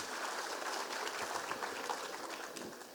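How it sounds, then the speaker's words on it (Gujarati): Audience clapping for a children's folk dance at a school cultural festival, a dense steady patter of many hands filling the hall for a few seconds, moderately distant and fairly quiet, with no voices over it. "તો આપણે ફરી એકવાર તાળીઓના ગડગડાટથી બાળકોનું પ્રોત્સાહન વધારીશું"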